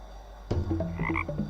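A cartoon frog in the Frogger Revenge PowerPoint game lets out a short burst of bright, bubbly croaks, close and clear over a faint low hum.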